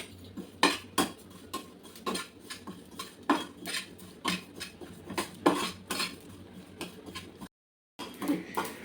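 Ajwain seeds dry-roast in a pan while a utensil scrapes and stirs in repeated rhythmic strokes, close and clear with metallic clinks, followed by a brief pause before the stirring resumes.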